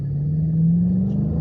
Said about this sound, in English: Here comes a muscle car right here.